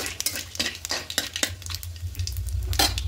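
Two dried red chilies and a large bay leaf, torn in two, are stirred in hot oil in a pan for a vegetarian cabbage ghonto, giving repeated scraping spoon strokes over a light, steady sizzle.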